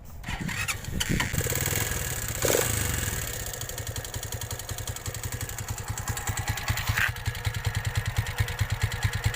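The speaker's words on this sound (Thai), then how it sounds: "เสียงเบามากนะ ใกล้เคียงท่อเดิมเลย เอาง่ายๆมันมันคือเสียงท่อเดิมชัดๆเลยนะ" A Honda scooter fitted with a modified quiet exhaust muffler starts up and settles into a steady, soft idle, its even low puttering close to the mic and alone throughout.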